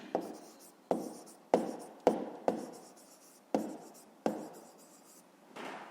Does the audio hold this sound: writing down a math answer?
yes